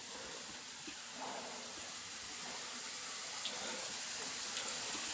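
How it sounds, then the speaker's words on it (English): Water seeping and trickling into an abandoned onsen resort building in Japan, a steady broad hiss and rush with faint drips and clicks over it, with no talk. "you can literally hear all the water kind of like coming in"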